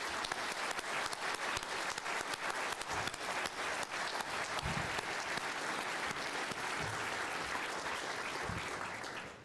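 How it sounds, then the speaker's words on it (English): Students receive a big round of applause at an awards ceremony, dense sustained clapping from a large crowd filling the room for nearly ten seconds before easing slightly at the end. "So let's give all the students a big round of applause."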